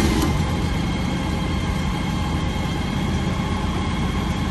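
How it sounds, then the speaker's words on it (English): Trojan TW2000 trailer jetter engine running steadily at idle, a continuous loud low rumble with no breaks and no talking. "Then you start your engine."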